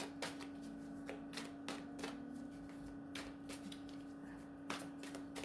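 Cards are riffle-shuffled repeatedly, a quick rattling flutter that bursts several times in close succession, fairly quiet and near.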